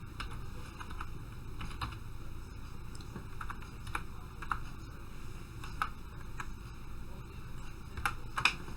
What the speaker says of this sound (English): Then I can type in my password,